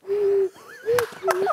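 A voice imitates a cuckoo clock with short hooting coo calls, a held tone and then sliding pitched notes, done as a comic bit in a Japanese entertainers' show.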